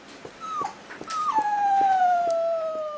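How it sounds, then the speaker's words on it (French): A sick, listless dog whimpers on hearing its owner's voice, drawn-out high whining tones that slide downward, one short cry then a longer plaintive wail, close by with faint background clatter. "son animal est content de le voir et se plaint un peu parce qu'il n'est pas bien"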